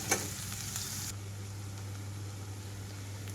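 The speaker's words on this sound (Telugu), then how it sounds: "కరివేపాకు కూడా వేసి వేయించుకుంటున్నాను" Onions and curry leaves frying in a pan, a steady close sizzle with a brief clatter at the start, then continuous hiss and a low hum underneath.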